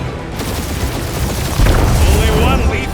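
Rapid gunfire and blasts from a space-opera combat scene in Marvel's Guardians of the Galaxy video game, with a steady rattle of shots that grows heavier midway, running under character voices.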